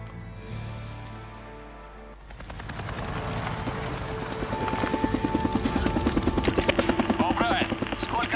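A helicopter in the video game Days Gone builds from a low rumble into a loud, steady chopping of rotor blades that stays close and prominent, with game background noise underneath.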